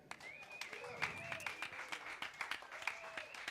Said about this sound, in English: Let's give a round of applause to our wonderful singers today.